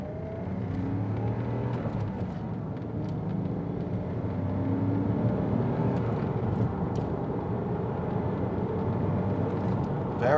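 A manual car pulling away in first gear: steady engine drone with a low hum that builds slightly in load as it moves off, heard from inside the cabin, with no voices.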